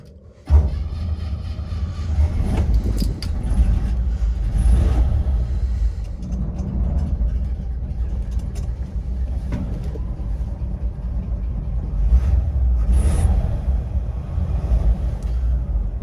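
A 1963 Chevrolet Bel Air's 327 V8, already warm, fires up on a hot start and settles into a loud, steady low rumbling idle close by, with a few knocks and shuffles over the engine note.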